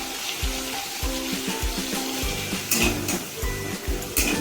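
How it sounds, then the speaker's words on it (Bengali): Spices and garlic pieces fry in oil for ghugni, a dense crackling sizzle with regular scraping stirs and thumps against the pan, close and steady throughout. "আরও বেশ কিছুক্ষণ ভাজতে হবে যতক্ষণ না কাঁচা গন্ধটা চলে যাচ্ছে মশলাটা থেকে"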